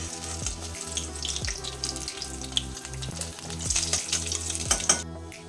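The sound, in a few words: koi fish frying in oil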